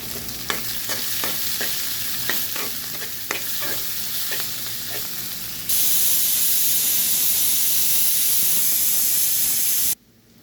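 Carrots with onion and green chilli sauté in oil, first a steady sizzle with repeated spoon taps and stirring clicks, then a louder, even hiss that cuts off abruptly, with no voices.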